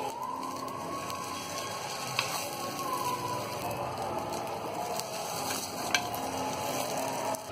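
A cheese sandwich fries in ghee on a pan, giving a steady close sizzle and crackle with occasional light scraping clicks, continuous throughout without talk.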